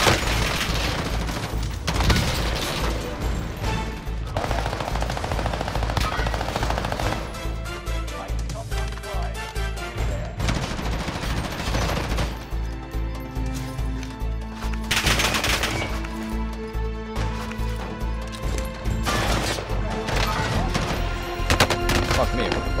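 Rapid machine gun bursts in the Call of Duty Warzone video game, loud repeated volleys with booming impacts running nearly continuously, layered over game sound and brief voices.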